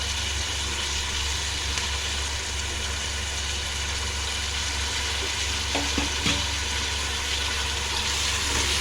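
Coriander and mint get stirred into a cooking pot over a continuous sizzling fry, with a low steady hum beneath and a couple of soft scraping strokes of the spoon partway through, close and unbroken by speech.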